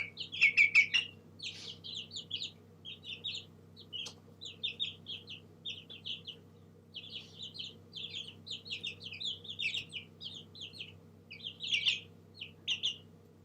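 Young chicks peep in rapid, high-pitched bursts, many small chirps overlapping near and far over a faint steady hum, without talk.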